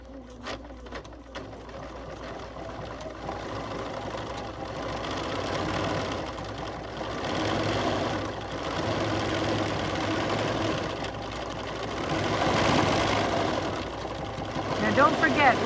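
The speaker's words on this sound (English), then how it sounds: "with the stitch regulator, the machine keeps the stitches nice and even" A quilting sewing machine with a stitch regulator runs continuously with a steady, mid-pitched mechanical hum and rapid needle rhythm, slightly rising and falling in speed, with a voice talking over it.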